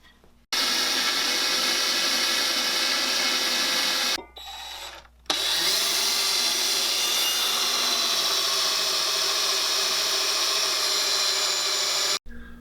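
A power drill bores holes for pop rivets in a syrup evaporator pan, running in two long loud steady whines with a short pause between them.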